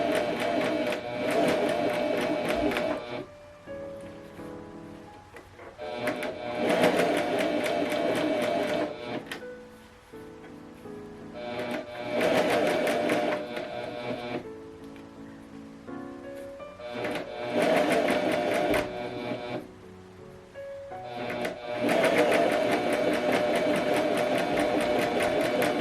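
A Pfaff Coverlock 4.0 sewing machine runs in several sustained bursts of stitching through fabric, whirring steadily for a few seconds at a time with brief pauses between runs, close and fairly loud.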